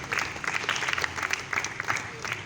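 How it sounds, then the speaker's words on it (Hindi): An audience at an Urdu comedy stage show applauding, a sustained burst of dense clapping from a crowd, lively and moderately loud with no speech over it. "ज़ोरदार ताली होनी चाहिए"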